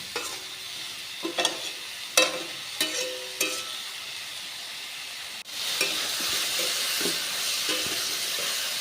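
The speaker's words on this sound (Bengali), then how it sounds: "দেখো এখানে বেশ কিছুটা সময় নিয়ে আমি ঝিঙেগুলো মশলার সঙ্গে কষিয়ে নেব।" Ridge gourd sautéing with spices in a pan, a steady sizzle with intermittent scraping stirs that swells into a louder, continuous frying hiss in the second half; no voices.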